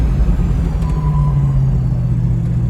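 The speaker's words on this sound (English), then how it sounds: "I'll demonstrate how nice and straight and secure the brakes operate." A 1966 Shelby GT-350H braking on a test drive, a close steady low rumble of the car with a brief squeal as it slows, no voices.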